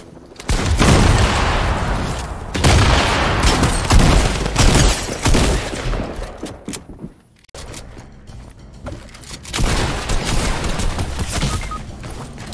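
Gunfire in the video game Fortnite, including a mythic drum gun, crackles in dense rapid bursts with a brief lull partway through, loud and close.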